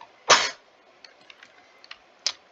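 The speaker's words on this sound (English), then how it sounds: "I need to sneeze." A single short, sharp sneeze up close, followed by faint scattered clicks and a small second burst in a quiet room.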